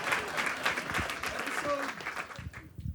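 Live audience clapping at a comedy podcast taping, a dense sustained wash of applause filling the room, with talk from the hosts running over it.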